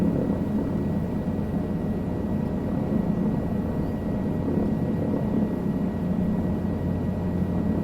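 A helicopter lifts off in the Microsoft Flight Simulator 2020 game, a steady loud rotor and engine drone with a deep low hum that holds even throughout, with no talking.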